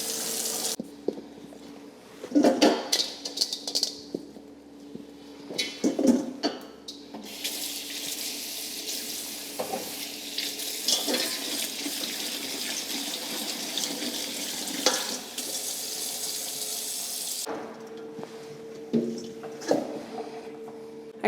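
Plums being washed under a running kitchen tap, a steady stream of water splashing into the sink for most of the stretch, with brief bursts of handling and clattering fruit at the start and end.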